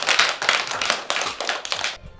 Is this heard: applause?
yes